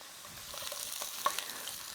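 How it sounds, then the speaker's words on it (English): Food fries in a hot pan with a soft, steady sizzle, faint crackles and an occasional sharper pop, heard close and fairly quiet with no talking. "that sizzle"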